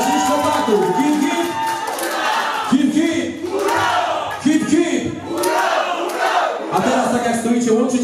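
Wedding guests cheer and shout for the boys in a loud crowd roar that swells in repeated waves, with whoops and voices layered over hall music.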